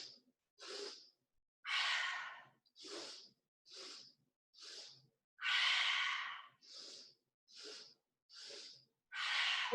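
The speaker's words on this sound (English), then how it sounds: "Inhale, inhale, inhale, exhale." Rapid rhythmic breathing exercise, a dozen or so sharp, close inhales and exhales in steady succession with brief gaps, some breaths longer and fuller, no talking over them.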